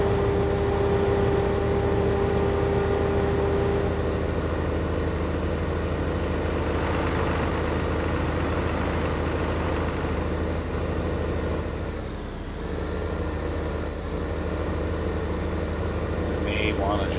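A Deutz tractor engine in the Farming Simulator 15 video game drones steadily at a low, even idle-like pitch while working a field course on a Michigan farm map, dipping briefly midway before resuming.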